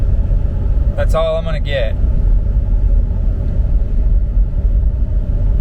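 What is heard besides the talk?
truck engine running in third gear, torque converter locked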